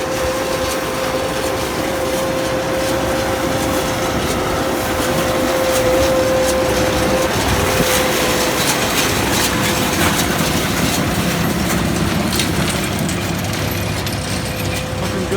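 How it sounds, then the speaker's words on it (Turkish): A steady, loud tractor engine drone runs throughout with continuous mechanical rattling and clanking from a hay baler it pulls, with no breaks. "Bakın balya makinesi de bu şekilde önde traktör çekiyor onu."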